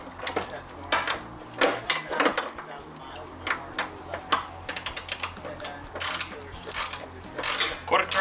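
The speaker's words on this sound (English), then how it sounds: "we're just going to go get a ratchet and get this one in," A ratchet tightens a wheel bolt while an MFC Offroad rear wheel centering kit is fitted. Rapid, close clicking comes in repeated bursts with short pauses between them, and faint voices can be heard in the background.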